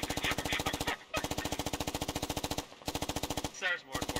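Fast, steady machine-gun bursts from a military video game hammer away close and loud in three long strings separated by short pauses, with brief voice fragments in the gaps.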